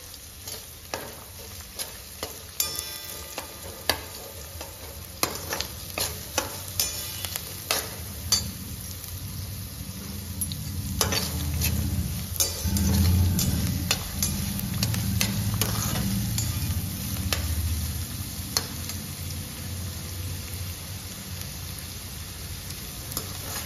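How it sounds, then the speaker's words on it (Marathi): Sliced onions, three of them, being stirred and fried in a pan over a raised gas flame for spicy village-style sukka chicken, with a steady sizzle, repeated scraping stirs and clinks throughout, growing louder in the middle. "थोडासा कांदा आपला परतून द्यावा।"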